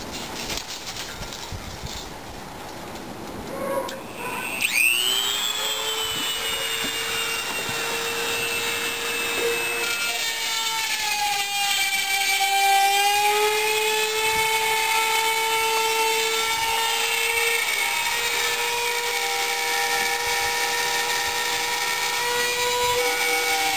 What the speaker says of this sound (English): I just want to drill that.